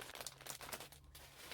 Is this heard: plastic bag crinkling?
yes